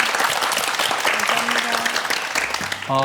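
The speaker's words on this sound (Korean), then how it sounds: "두 분 지금처럼 계속 행복하시라고 격려의 박수 좀 보내드리죠." A Korean TV studio audience gives a full, dense round of applause that holds steady for several seconds before a voice begins speaking at the end.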